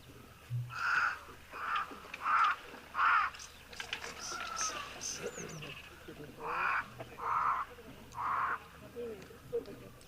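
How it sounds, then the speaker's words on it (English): Harsh caws from pied crows come in two rhythmic runs of four or so calls each, set against a quiet outdoor background. "These pied crows."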